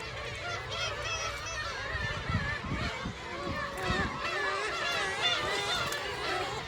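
Seabirds call busily at a coastal spring nesting colony on Kabushima, Hachinohe, Aomori, Japan, with overlapping nasal honking cries near and far. Steady wind and surf hiss sit beneath them, and faint talk is possible.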